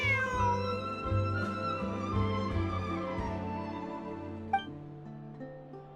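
A stray cat meows in Genshin Impact, drawn-out mewing cries set over soft sustained background music, with a brief sharp note near the end.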